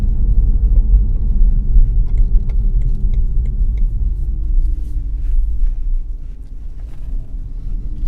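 A BMW i3 electric car drives on a road at around 30 km/h, giving a steady low rumble of tyres and cabin noise with a faint whine gliding underneath.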